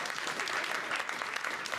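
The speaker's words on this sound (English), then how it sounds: "Think about what you're clapping for." Studio audience applause on a TV comedy clip show, a brisk even wash of many hands clapping throughout, fairly loud and close, with no talk over it.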